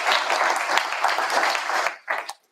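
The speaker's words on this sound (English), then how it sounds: "I just wanted to have a big round of applause for our student auditors" An audience at an awards event for Green Impact and LEAF gives a round of applause for student auditors, steady clapping for about two seconds that breaks off, then a short final burst that fades out.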